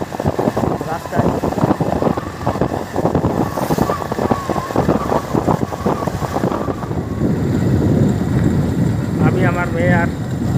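Motorbike ride on a crowded road on the way to a Shiva temple festival, a steady engine and wind rumble running throughout, with voices talking over it and a horn-like tonal burst near the end.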